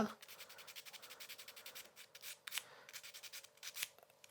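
Quiet, rhythmic scratchy strokes of fine sandpaper rubbing back and forth over a gralla cane reed, close up, with a couple of sharper scrapes.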